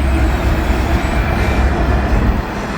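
A daily intermodal freight, train 26C from Jacksonville, Florida, heading to Chicagoland, rumbles past nearby with continuous heavy roar and rail clatter, steady and loud throughout, no one talking.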